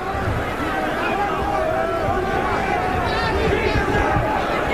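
Dense roar of a crowd of about 8,000 to 9,000 at a boxing match in the Omni arena, Atlanta, loud and sustained, with a commentator's voice running over it.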